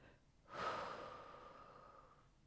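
Deep, vigorous inhale during a yoga session, a single long breath rising quickly and then tapering off over about two seconds, close and fairly quiet with no talking.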